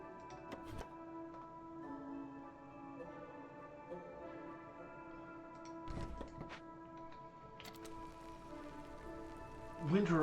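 Steady rain pours down in the Against the Storm video game, a soft continuous hiss with scattered ticks and a few brief bright bursts, set under a low droning music bed.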